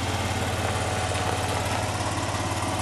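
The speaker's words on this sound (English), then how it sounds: "There goes the four-wheeler mule." A four-wheeler mule utility vehicle drives by outdoors, its engine a steady, moderately loud droning putter throughout with no voices over it.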